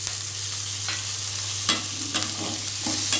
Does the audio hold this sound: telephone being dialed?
no